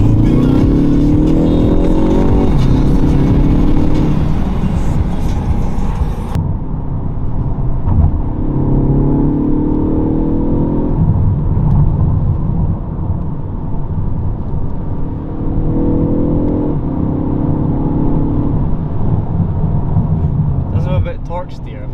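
A car pulling hard at full throttle in third gear on roads near Goodwood racecourse: a loud, rising engine drone heard from inside the cabin, climbing in repeated surges as it accelerates, with someone talking over it.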